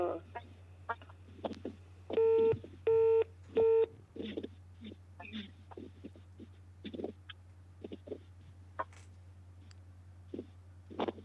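Telephone dialing tones: a quick run of beeps, then three longer steady tones in a row, heard among scattered clicks and handling noises over a constant low hum.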